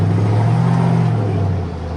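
A monster truck engine rumbles loudly up close as it drives, a deep, steady growl with slight pitch shifts that eases off toward the end.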